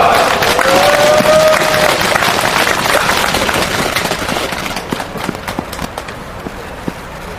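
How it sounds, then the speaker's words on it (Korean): Candlelit rally crowd protesting outside a bank giving loud, dense applause and cheering, strongest at first and gradually thinning into scattered claps toward the end. "투쟁사를 해주신 김기철 위원장님께 다시 한번 뜨거운 박수 부탁드리겠습니다."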